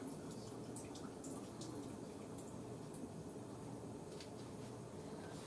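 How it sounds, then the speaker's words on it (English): Water from canned potatoes drains into a kitchen sink with a steady, close splashing rush and scattered drips, running continuously without any voices. "Now we're not going to use the water. I'm just going to put my hand over the sink."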